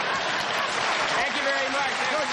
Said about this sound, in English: They were applauding a lot.